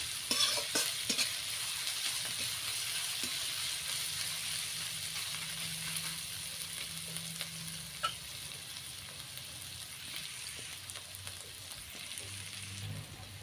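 Ginger and garlic frying in oil for a fish curry, a steady close sizzle with faint stirring scrapes, running alone throughout.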